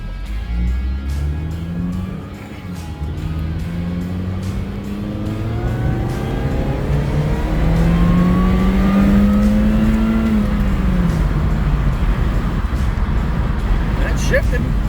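A Mini Cooper S R52 that has sat unused for a couple of years accelerates and shifts through its gears, engine pitch climbing and dropping in repeated steps under steady road and wind roar, with someone talking over it.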